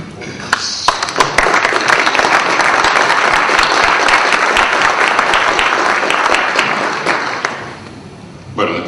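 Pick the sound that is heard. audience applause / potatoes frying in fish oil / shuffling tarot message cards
audience applause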